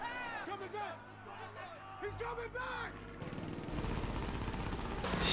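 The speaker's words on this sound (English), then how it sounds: "Shooting at the towers." P-51 Mustang machine guns strafing towers, a dense rattle of gunfire swelling in the second half, heard with voices talking over the first part.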